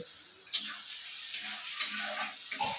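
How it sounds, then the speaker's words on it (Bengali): Boiled duck meat is sautéed with garlic in a pan, giving a soft, low sizzle under several distinct scrapes and clinks of a spoon stirring at close range. "এখন মাংসটা এটার মধ্যে দিয়ে আস্তে আস্তে সাতলাতে হবে।"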